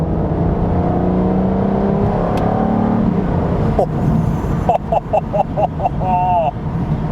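An Aston Martin DB9 engine idles with a low, smooth burble from inside the car, then after paddle downshifts gives a quick series of short, sharp throttle blips that rise and fall in pitch.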